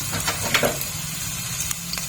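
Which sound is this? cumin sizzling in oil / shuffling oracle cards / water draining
cumin sizzling in oil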